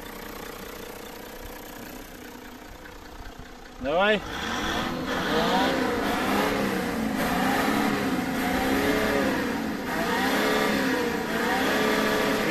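A Toyota Land Cruiser 100 engine idles, then revs up sharply and holds a steady elevated roar with wavering pitch during an exhaust test; a brief spoken word comes just before.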